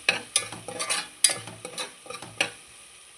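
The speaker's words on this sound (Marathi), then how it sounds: "आता मस्त फणी परतून घेऊया" Tempering of mustard seeds and asafoetida is stirred and sautéed in a pan, giving irregular scraping strokes and light clinks of a spoon against metal over a faint sizzle, close and fairly quiet, with no talk.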